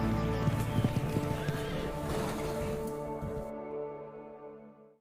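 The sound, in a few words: horse neighing and hooves clip-clopping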